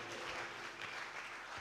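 A church congregation claps and cheers in sustained, steady applause that fills the room evenly for the whole brief moment, with no break in the noise.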